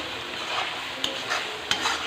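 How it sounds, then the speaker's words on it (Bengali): Onion and garlic frying in oil in a kadai while a Badshahi chicken dish is prepared, giving a steady close sizzle with a couple of brief scraping stirs of a spoon against the pan. "পেঁয়াজ রসুন ভাজা চলছে"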